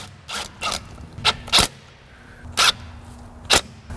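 Fasteners being removed from a rear axle bracket on a GMT400 pickup truck during a rear disc brake conversion: six short, sharp metallic clanks and scrapes at irregular intervals, close by, with quiet gaps between them.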